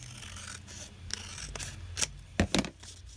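Scissors trimming the edge off a paper envelope, several crisp snips that grow sharper and louder toward the end, close and alone.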